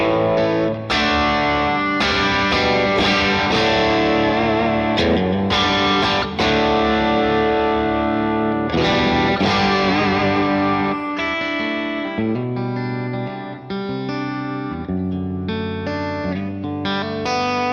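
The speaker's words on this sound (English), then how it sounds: "be more or less crunch sound, more distorted sound" Electric guitar with crunchy distortion, played through a Fractal amp modeler preset set up for worship music, strummed chords and picked notes ringing loud and continuous with no talking.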